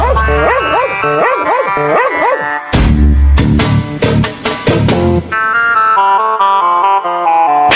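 A dog barks and yips in loud, tonal bursts, with whimpering sounds between the barks, heard up close in an indoor comedy scene.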